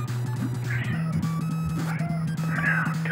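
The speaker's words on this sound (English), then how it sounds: "My damn cat's meowing." A house cat meows a few times in the background over electronic music and sound effects from the River City Ransom game, the meows faint and partly masked.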